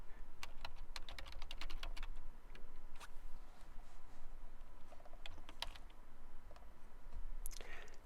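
Fingers tap out a command on a computer keyboard in bursts of quick, close clicks with short pauses between, fairly quiet against a soft room background.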